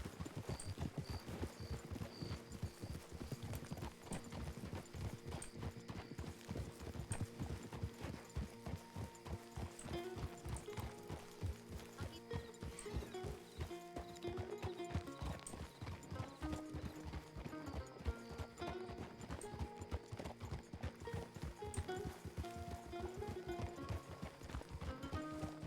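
Horse hooves clip-clop steadily in the RedM video game, a continuous rhythmic trot of evenly spaced hoofbeats over layered game ambience, with an occasional faint whinny.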